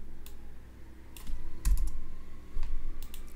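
Code being typed on a computer keyboard, a quick uneven run of key clicks with some louder taps, near and alone.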